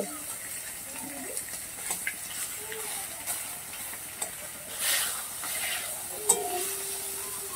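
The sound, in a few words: small fish frying in hot oil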